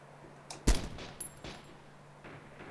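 A single loud gunshot crack from ARMA 2 in Takistan, followed by a few fainter distant reports and echoing rolls as a far-off firefight carries on, over a low steady hum with no voices.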